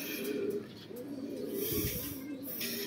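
A racing pigeon coos in low, repeated throaty phrases after arriving at its loft, fairly close and soft, with rustling and faint background noise around it.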